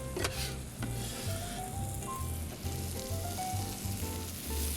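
Chopped leeks fry in olive oil in a hot pan, a steady close sizzle with scraping stirs and utensil clinks against the pan throughout.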